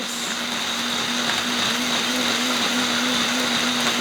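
A blender grinding beets and dried blueberries roars steadily at high speed with a harsh, whining motor hum and gritty grinding, loud and continuous throughout.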